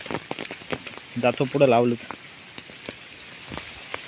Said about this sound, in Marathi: आजच पाऊस चालू झाला